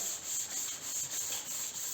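Steady scratchy rasp of a sanding block rubbing back and forth across a flat panel coated in high-build primer, with soft regular strokes, close and fairly quiet, no voices.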